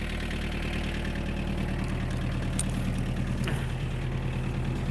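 Mitsubishi MT-265 Japanese mini tractor with its diesel engine idling steadily and the power take-off shaft engaged, a continuous close, even mechanical drone with no talk.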